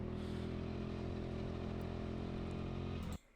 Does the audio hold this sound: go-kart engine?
yes